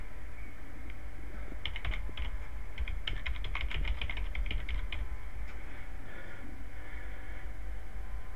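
Quick bursts of keystrokes on a computer keyboard entering a website URL, irregular clusters of light clicks close to the microphone, with a pause and a few final taps.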